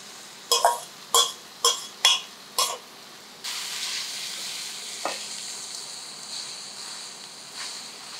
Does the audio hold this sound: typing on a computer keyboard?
no